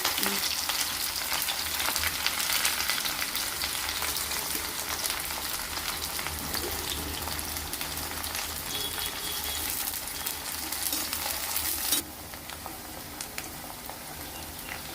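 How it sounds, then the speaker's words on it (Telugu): Green chillies and onion hit hot oil in a pan, giving a loud, dense, continuous crackling sizzle that drops slightly in level near the end, with faint stirring and no voices. "ఆయిల్ వేడైందండి. కొద్దిగా పచ్చిమిరపకాయ, ఉల్లిపాయ వేస్తున్నాను."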